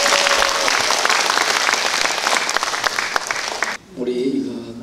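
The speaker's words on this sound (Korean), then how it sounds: "우리 전태선 지사장님께 큰 박수 부탁드리겠습니다" Loud applause from an audience after a speech at a business startup information session, continuous clapping that stops abruptly, after which a voice starts talking.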